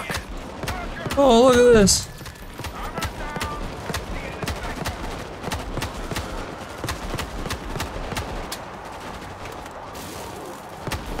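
Sniper rifle fire in World War Z: Aftermath, a steady string of sharp cracks spaced through the clip amid other game combat noise, with someone talking briefly near the start.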